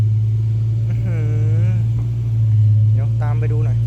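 A dump truck drives over loose dirt at a site where earth is being hauled, its deep engine rumbling steadily and close by. Someone talks briefly over the drone.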